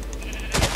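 A single short sheep bleat sounds from the Minecraft video game, a brief nasal cry near the end of an otherwise quiet moment.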